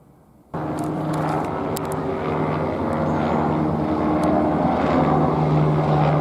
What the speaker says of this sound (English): Channel 4 NBC chopper.